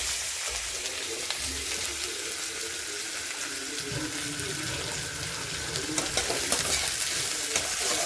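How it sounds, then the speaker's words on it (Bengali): Dried red chillies, green chillies, onion and garlic fry in a pan, giving a steady close hiss of sizzling with scattered crackles and faint scraping of stirring throughout, no voices. "কালো লঙ্কা, কাঁচা লঙ্কা, পেঁয়াজ, রসুন এটাকে একটু লাল লাল করে প্রথমে ভেজে নিচ্ছি।"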